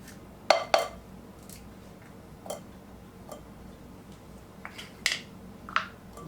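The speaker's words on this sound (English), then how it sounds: "mix that up." A spoon scraping cream cheese and sour cream together in a bowl. It gives a few faint, scattered clicks and taps with quiet gaps between them.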